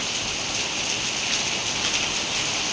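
Heavy rain pouring steadily, a dense, even hiss of drops on surfaces with no breaks, close and fairly loud, with no voices.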